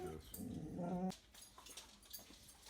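A dog indoors gives a low, rumbling growl with a whiny edge, aimed at an armadillo outside the window, then breaks off abruptly, leaving quieter snuffling and rustling.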